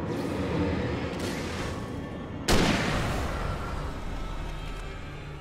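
A hunting rifle fires once in the video game Alan Wake, a loud sharp shot about midway with a short decaying tail, over a steady background of game noise and music.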